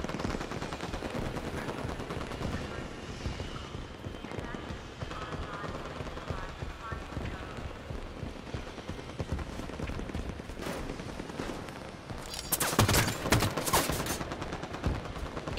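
Gunfire in the Halo 5 video game, continuous rapid shots and bursts crackling through a busy battle mix, with a louder cluster of blasts near the end and voices talking over it.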